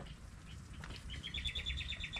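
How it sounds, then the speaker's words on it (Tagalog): A bird sings a quick run of repeated high chirps in the second half, over low rumbling background noise. "Yung ibon ay nahuni na."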